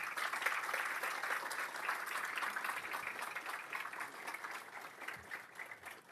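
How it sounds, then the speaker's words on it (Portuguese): Applause from the audience at a public launch event for a development project in Bahia: steady, dense clapping that carries on for several seconds at a moderate, slightly distant level, with no voices over it. "Peço uma salva de palmas ali aos nossos Super Geraldo."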